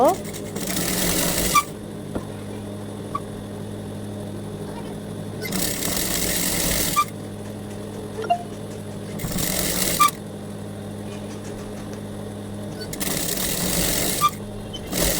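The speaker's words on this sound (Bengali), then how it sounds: "এখন হচ্ছে আমি নিচের অংশে সেলাই করে নিব" A sewing machine runs in steady stitching bursts as it hems a child's Afghani-style pyjama, the motor whirring loudly with short pauses between runs.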